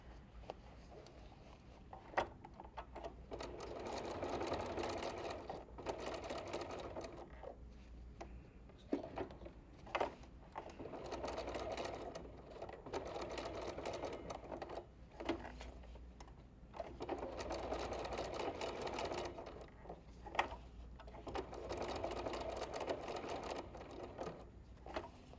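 A sewing machine stitches a quilted flower made from fabric strips, whirring steadily in repeated runs of several seconds each, broken by short stops, close and moderately loud, with no talking.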